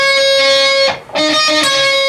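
Distorted electric guitar lead phrase from a song, sustained bright notes with a brief dip mid-phrase before the line resumes, loud and close, no talking.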